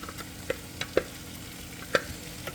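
Pureed onions stirred into a simmering pot of cassava leaf stew, with a soft steady sizzle and a few light clicks of a spoon against the pot.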